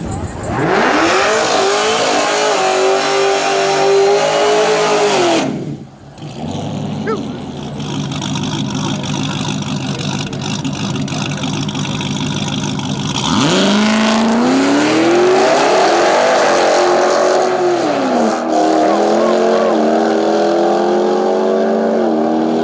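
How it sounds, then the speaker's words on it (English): A tuned Jeep Trackhawk with a Sinister Performance tune launches in a daily-driver drag final at a Canadian pay-your-own-purse event, its engine roaring loudly through rising revs, a sudden drop, then another long, sustained climbing pull. "He is going to race the Trackhawk Sinister Performance Tune"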